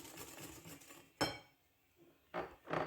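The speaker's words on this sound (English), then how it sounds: "Don't even mind my cutlery. I use anything as long as the cake is mixed." A metal utensil stirs cake batter of eggs, sugar and oil in a bowl in a simple Kenyan countryside kitchen. Quiet rhythmic scraping gives way to a few sharp clinks and clatters against the bowl, with no talking.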